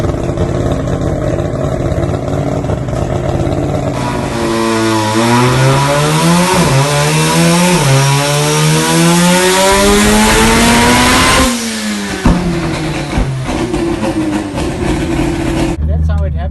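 Drift car on the island of Aruba revving hard, its engine note climbing and falling through rapid throttle blips over about twelve seconds before settling to a loud idle, close and steady throughout.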